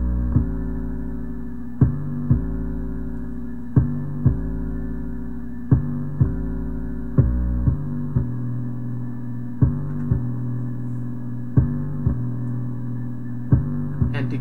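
A deep synth bass line from a rap beat pulses in steady, evenly spaced notes with sharp attacks, holding a low droning tone throughout and playing alone without voices.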